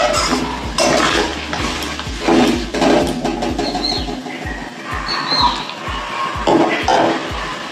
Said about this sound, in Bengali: মশলাটা একটু কষুক